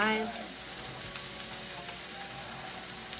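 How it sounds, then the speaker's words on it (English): Steak frying in a pan on medium-high heat, a steady close crackling sizzle with scattered pops, heard alone without talking. "we've got the meat cooking"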